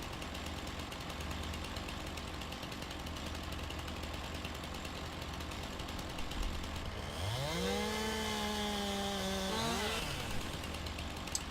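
A chainsaw in Farming Simulator 19 on a wooded mountain map starts up against steady engine noise, revving to a high buzzing whine for a couple of seconds before dropping back.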